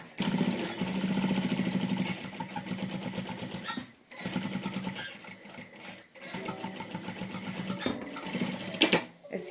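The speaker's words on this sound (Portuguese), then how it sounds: "E vamos cozer." A sewing machine stitching fabric for a multi-use basket, a steady close whirring hum with rapid needle chatter, pausing briefly twice before starting up again.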